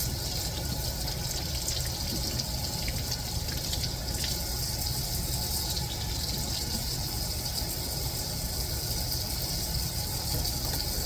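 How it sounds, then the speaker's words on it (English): Tap water rushing steadily over brass trumpet slides and valves being rinsed, a continuous loud splashing gush close by with no voices. "you just rinse and repeat, literally, for the last 2 slides, or valves"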